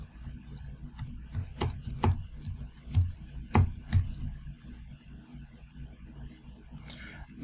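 Keys on a computer keyboard tapped in short irregular bursts while a name is typed, close and fairly quiet, with pauses between the clusters of clicks and no talking.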